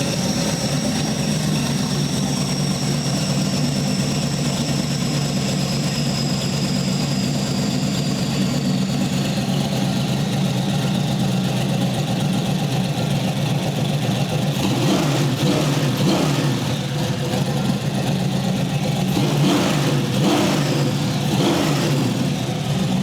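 A truck engine fitted with a VEVOR camshaft idles steadily with a low, even rumble, then revs up in a few rough bursts near the end.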